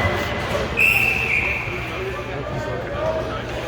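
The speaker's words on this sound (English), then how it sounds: "How did they whistle it if it was out?" Referee's whistle at an ice hockey game, a single short, shrill blast over arena hubbub with muffled crowd noise and skating in the background.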